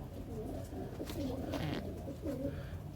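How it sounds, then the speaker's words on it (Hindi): A sick Girdhan pigeon with a cold makes low, throaty cooing and wheezy sounds, close and steady over about three seconds, with no one speaking. "तो ये जो कबूतर है मेरा सीधा गिरधान कबूतर है, इसको कुछ नज़ला टाइप हो गया है।"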